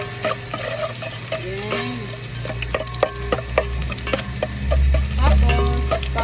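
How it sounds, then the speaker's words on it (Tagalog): Garlic frying in oil in a home pan for pinakbet, a steady close sizzle broken by sharp scraping stir strokes, with a brief voice speaking over it. "Then hintayin natin mag-golden brown yung bawang."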